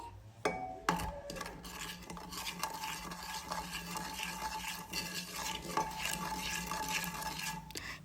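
Salt and masala are stirred together for egg biryani, with a spoon scraping and clinking against a metal pot over a faint sizzle, close and continuous with no talk.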